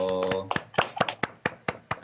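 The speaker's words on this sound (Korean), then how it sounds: "저희 박수 할게요" Parents and children at a parenting education class clapping in an even rhythm, about eight distinct claps following a brief spoken voice, moderately close and clear.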